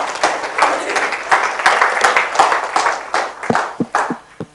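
An audience applauds after a conference talk with a burst of steady clapping that thins out into a few scattered, separate claps toward the end.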